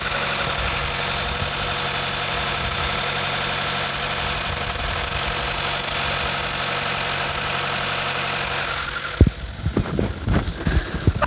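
A 2023 Volkswagen T-Roc's 1.5 TSI 150 hp four-cylinder petrol engine idles with a steady, even mechanical hum up close, then gives way near the end to a few irregular knocks and handling sounds.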